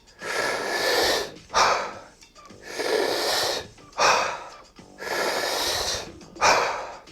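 Rapid Wim Hof breathwork breathing, close and loud, with long forceful inhales and shorter sharp exhales repeating in a steady cycle about every two seconds, no talking.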